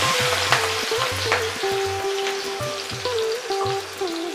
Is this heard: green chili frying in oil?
yes